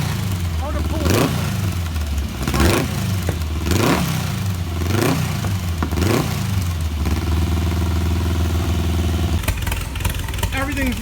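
A VW buggy engine runs after a carburetor swap, loud and close, revving up and dropping back in repeated surges before settling into a steady idle, with a brief clatter toward the end.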